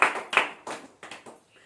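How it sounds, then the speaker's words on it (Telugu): A church congregation clapping hands loudly during a sermon, several sharp bursts of claps in an uneven rhythm that fade toward the end. "గట్టిగా చప్పట్లు కొట్టండి"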